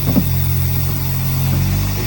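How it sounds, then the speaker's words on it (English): A rally-prepared Alfa 33 16v engine runs steadily while being bedded in, a close, continuous mid-pitched drone with a brief rise at the start and no talk over it. "is bedding his engine in"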